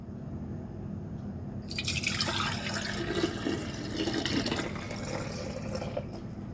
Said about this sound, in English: So I'm going to pour it in this jar.